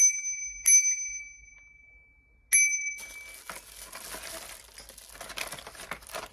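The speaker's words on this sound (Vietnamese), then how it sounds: "Đấy, chuông hình tháp này cũng 20k" Two crisp rings of a tower-shaped bicycle bell, part of a lot of used Japanese bicycle accessories, each a bright metallic ding with a lingering ring, followed by softer rustling and handling noise.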